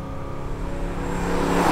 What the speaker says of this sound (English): if you drop a gear, this sucker revs to the moon